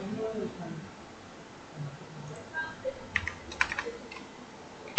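Code is typed on a computer keyboard during a Dart and Flutter programming lesson, with scattered keystrokes that thicken into quick bursts of clicks near the end, heard at close range under soft, low speech.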